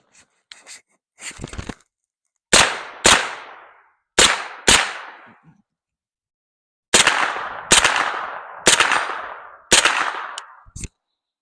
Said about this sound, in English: So I'm gonna be shooting these two, and then I'm gonna shoot that far one.